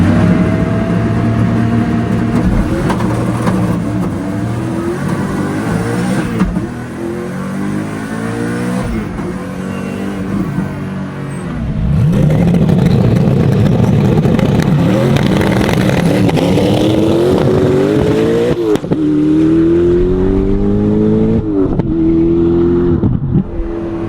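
A NASCAR Camaro street car launching in drag mode, its engine revving hard and climbing through repeated gear pulls, loud and close throughout with no talking.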